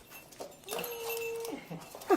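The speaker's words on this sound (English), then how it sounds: "This is my Maltese" A small Maltese dog gives a single brief, high, thin whimper, close and fairly soft, in a quiet room.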